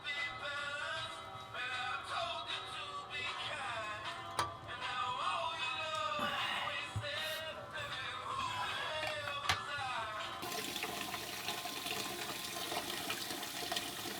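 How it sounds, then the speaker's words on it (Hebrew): Steady rush of water running for a shower inside a bus converted into living space, continuing without pause for over ten seconds with a brighter hiss near the end, close and moderately loud with no talking. "עוד מעט המים יתחממו, נעשה מקלחת רצינית."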